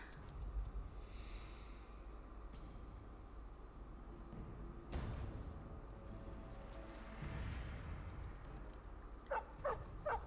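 A dog in the game Dragon Age: Origins makes a few quiet whimpers and snorts, faint and intermittent over a low background hum, with no talking.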